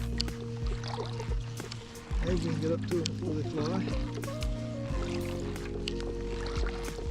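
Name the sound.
kayak or canoe paddling on a bay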